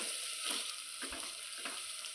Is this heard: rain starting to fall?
no